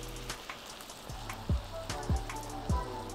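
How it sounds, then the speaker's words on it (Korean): Beef sizzling and being stirred with chopsticks in a hot pan alongside shiitake mushrooms, a steady close fry with three sharper stirring clatters late on and no talk. "고기가 뭉쳐지기 때문에 젓가락으로 풀어주면서 볶으시면 됩니다"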